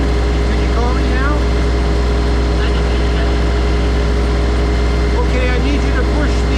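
A tractor engine holds steady at about 2,000 RPM, a loud, constant close-up drone that fills the whole stretch with no break.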